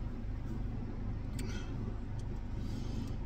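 A car engine running steadily during a drive, a low, constant rumble with road noise that fills the interior, and no talking.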